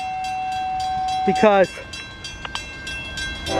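A northbound grain train led by a Pennsylvania heritage unit passes in Marion, Ohio, with a short, loud blast of its horn over steady rail rumble. A brief spoken word is heard.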